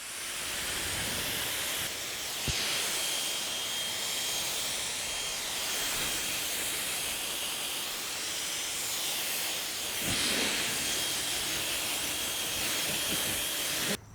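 A pressure-washer water spray rinses car wash suds off a vehicle, a steady loud hiss running throughout with a couple of brief sharp taps and shifts in the spray.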